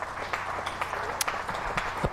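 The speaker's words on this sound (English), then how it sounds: "applause coming up for Shah Massoud's pretty rapid 58 balls" Crowd applause at a Glamorgan versus Yorkshire County Championship cricket match, a thin scattered clapping from a modest crowd that runs steadily through the whole stretch, with a few sharper individual claps standing out.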